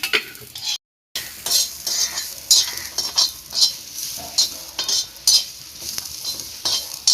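Onion is stir-fried in oil over a wood-fired village stove for a chicken dish, crackling sizzle punctuated by repeated scraping strokes of a spatula against the pan, with a brief dropout near the start.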